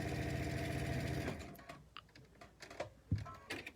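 A Brother BQ3050 sewing machine with a Mu-vit foot stitches across a quilt seam in a steady, close mechanical whir for about a second before stopping, followed by a few light clicks and taps.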